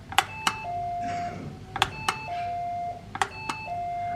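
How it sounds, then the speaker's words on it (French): A 7-Eleven shop door chime in Bangkok rings three times in a row. Each time it gives a bright electronic ding-dong with a held tone, over a faint room hum. "Le seul truc que j'aime bien, c'est la sonnette du 7-Eleven ici"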